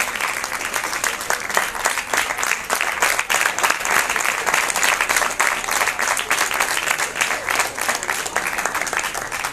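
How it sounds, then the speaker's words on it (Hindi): A large audience at a science festival ceremony, as flowers and a memento are presented, keeps up steady, vigorous applause throughout, a dense wash of clapping with no break. "तालियां बजती रहनी चाहिए।"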